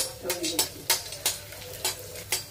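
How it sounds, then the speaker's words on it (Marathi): Edible gum frying in ghee in a kadhai, a continuous crackling sizzle punctuated by about half a dozen evenly spaced metal scrapes of a spatula, close up with no talking. "आता आपण हे डिंक तळून घ्यायला लागलोय।"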